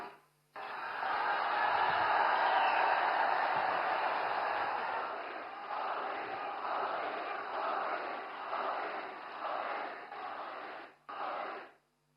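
Audience at Prime Minister Narendra Modi's youth rally in Jharsuguda stands and gives sustained loud applause and cheering, a dense crowd roar that swells early, then continues in slightly uneven waves before cutting off.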